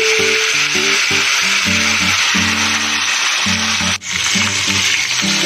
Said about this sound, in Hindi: अभी फिश को फ्राई करते हैं।